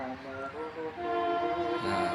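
A train horn sounds in long sustained tones over the rumble of a train passing a level crossing at Janti, Papar, loud and close, rising toward the end.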